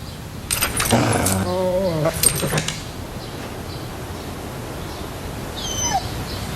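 A dog whimpers in a laundry detergent commercial, giving a couple of short, close, whining yelps early on and a faint high whine near the end, with light jangling alongside.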